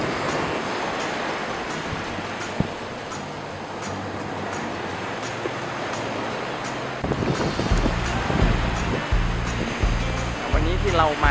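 Sea waves break and wash onto the beach at Bang Saen in a continuous loud roar with wind noise, and the surf swells stronger in the final seconds while a voice speaks over it.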